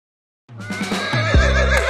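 A horse neighs loudly and close, a sharp whinny that breaks out after a brief silence and rises into a strong, wavering call in an animated folk tale scene.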